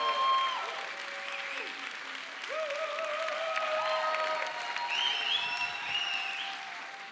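Audience applause at a live program, fairly soft clapping under a voice that keeps talking over it, with short tonal sounds mixed in.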